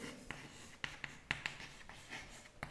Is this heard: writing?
yes